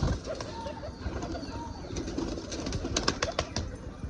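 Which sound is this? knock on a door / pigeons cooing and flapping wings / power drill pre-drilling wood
pigeons cooing and flapping wings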